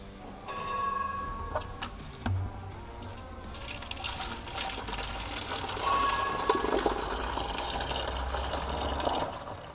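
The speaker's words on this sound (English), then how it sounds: "We're gonna tip in the water now." Water tipped from a container into an opened beer keg on the ground while cleaning the lines, a gurgling, splashing fill with clinks and knocks, running steadily for several seconds.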